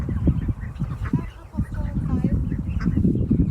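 Ducks quacking and honking in short bursts, close and fairly loud, interleaved with people talking over them.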